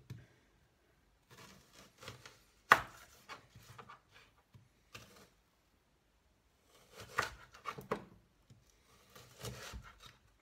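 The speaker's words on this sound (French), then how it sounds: "Et là, vous pouvez couper tranquillement votre oignon" A knife cutting an onion on a board, quiet scattered taps and scraping strokes in short clusters separated by silent pauses, close and soft.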